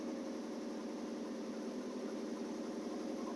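A cold Impreza car engine idles at a steady, even rumble, moderately loud and close, with no speech over it.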